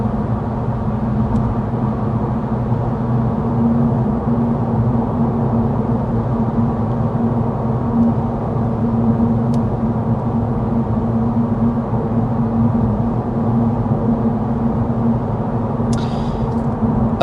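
Cabin noise inside a 2024 Honda Civic Touring cruising at 55 mph with the fan on its lowest speed: a steady low road-and-engine drone with a faint hiss above it, unchanging throughout and with no talking.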